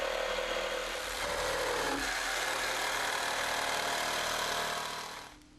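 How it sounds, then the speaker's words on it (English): A saw cuts protruding wooden deck planks to an even length along a clamped guide line, a loud, steady, close buzzing cut lasting several seconds before it trails off. "The protruding planks now all need to be cut to the same length."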